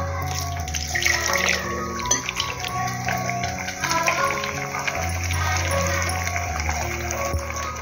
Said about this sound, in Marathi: हे भांडच धुवून घेणार मी.